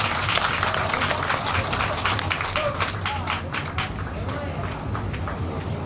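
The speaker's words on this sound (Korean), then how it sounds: "여러분 다시 한번 박수 한번 부탁드리겠습니다" Audience clapping at a live pumba performance at a festival in Yeongcheon, continuous applause from a crowd with a talking voice over it, plus a steady low hum in the background.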